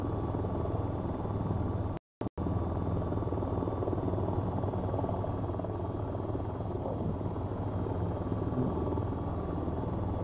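A game helicopter drones steadily and loudly, its rotor and engine hum continuous apart from a brief dropout, with no talk.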